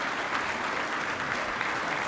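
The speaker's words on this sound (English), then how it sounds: "Let's give them a round of applause for the great leadership." Dense audience applause fills a Pittsburgh Bureau of Fire graduation ceremony, a continuous wash of many hands clapping at once, steady and full throughout with no breaks.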